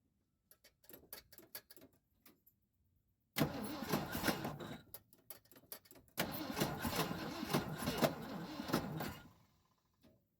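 A 1976 Ford F-250 with a troublesome carburetor cranks, catches and runs briefly twice, with a rough, uneven idle after each start, and pauses and clicks between attempts, all close up.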